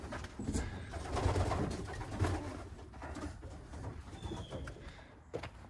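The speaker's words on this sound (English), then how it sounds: "Take a look at my roller pigeons." Roller pigeons coo softly and repeatedly in a loft, with low throaty calls overlapping against faint background rustling and no speech.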